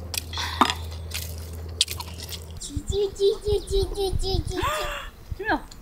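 Crunchy, crispy food is bitten and chewed close by at a spring cherry-blossom campsite, with crackling bites under a child's and adults' chatter and a brief low hum at the start.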